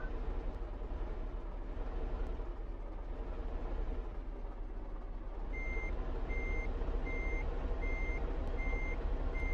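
A flatbed truck in Farming Simulator 15 backs up, sounding a steady series of evenly spaced reversing beeps over a constant low engine drone, with no talking.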